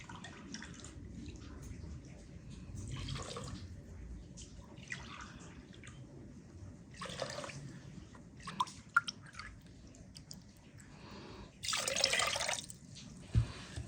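Water poured and trickling in a kitchen of a snowy village home, soft intermittent splashes and drips at close range, with a longer louder pour near the end over a quiet background.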